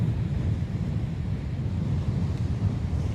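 Wind gusting across a beach buffets the microphone in a steady, loud low rumble, with the wash of surf mixed in and no voices.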